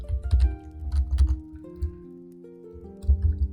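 Keys on a computer keyboard being typed in quick irregular bursts with short pauses between them, close and crisp, with a faint tonal hum in the background and nobody speaking.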